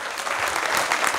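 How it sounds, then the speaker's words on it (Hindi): A crowd applauds steadily, a dense wash of clapping hands that holds at an even, fairly loud level throughout with no voices. "ऐसी शुभकामनाओं के लिए तालियां होनी चाहिए एक दूसरे के लिए"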